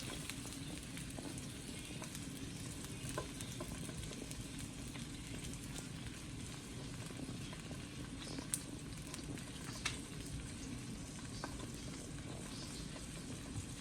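Salmon seasoned with chili powder and lemon pepper searing in a pan: a steady, quiet, even sizzle with occasional small pops and crackles, no talking.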